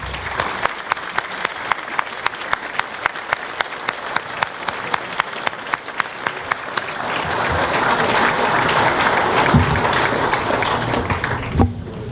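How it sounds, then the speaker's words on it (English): Applause for award winners standing at an organizational awards ceremony: sharp, evenly spaced rhythmic claps at first, then swelling into a fuller, denser crowd ovation before a couple of final louder claps. "Let's give them a round of applause."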